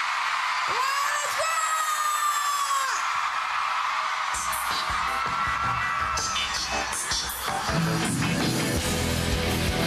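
A live concert crowd screams and whoops at a 2003 pop-rock show, a loud sustained roar of many voices with shrill yells and bangs, swelling into dense cheering in the second half.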